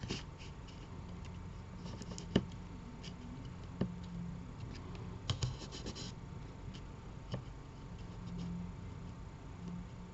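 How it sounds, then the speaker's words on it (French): A pencil draws a small cross on stiff paper, giving faint scratchy strokes and a few light taps over a quiet room hiss. "Prenez votre crayon comme ceci. Vous allez venir faire en fait une petite croix au milieu."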